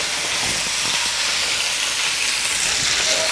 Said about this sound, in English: you let them sizzle in that juice of the sausages